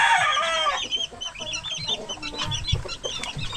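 Chickens cluck and squawk nearby, with a sharp, rising crow-like call at the start followed by busy clucking and rustling.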